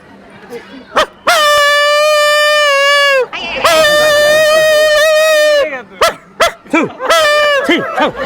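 A person imitates a street dog with long, drawn-out howling barks, two sustained wails followed by a series of short yelping barks, loud and close.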